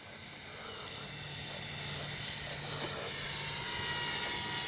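A radio-controlled F4U Corsair warbird model plane's engine drones steadily at a distance, a thin high whine over a low hum, slowly swelling as it passes.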